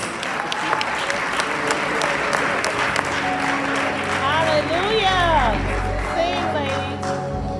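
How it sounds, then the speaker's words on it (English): Audience applause for a worship team at a church music and fine arts conference night service, dense sustained clapping with crowd murmur and cheering, loud and steady, with musical tones and voices rising beneath it near the end. "Come on, let's give them a round of applause."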